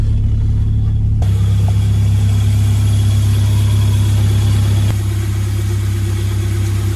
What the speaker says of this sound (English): A lot of vibration in here as well, but we are on Vibrotechnic engine mounts.